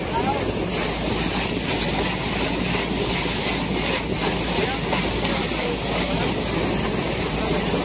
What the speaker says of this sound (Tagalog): Yo, bangka ni Hogan, oh.